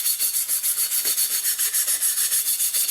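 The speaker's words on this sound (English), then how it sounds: "So just a wire brush," A wire brush scrubs rusty scale from the steel wheel rim of an old Murray mower, a fast, regular scraping rhythm of close, hissy strokes that repeats steadily without pause.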